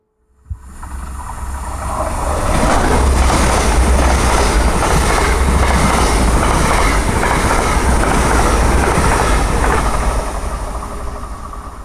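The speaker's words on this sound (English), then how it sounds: "in a moment on approaching will be a British Rail Class 802 or 800" A British Rail Class 802 or 800 high-speed train passes at Starcross, Devon, a loud sustained roar of wheels and rails with clickety-clack rumble rising quickly and holding steady for several seconds close by.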